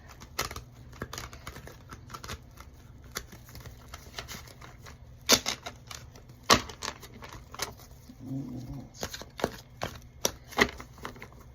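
A tarot deck is shuffled by hand on a table, with scattered soft taps and quick clustered clicks of cards knocking together. The sounds are close and fairly quiet, with no talking.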